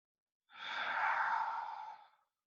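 A slow, deep breath during a hatha yoga class, one long airy exhale lasting under two seconds, soft and close, with no voices.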